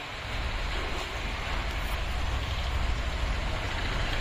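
Rain beginning to fall outdoors during a thunderstorm near Ahmedabad, a steady broadband hiss of drops with a low rumbling undertone, continuous and fairly even throughout.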